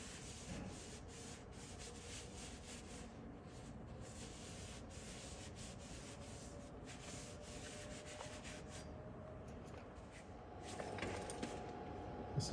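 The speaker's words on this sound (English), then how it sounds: "Just doing a final clean on the spindle there." A steady scrubbing rub runs without a break as the axle spindle of a 1950s GM 4104 bus gets its final clean. The sound is close and moderate, and a slightly louder burst comes near the end.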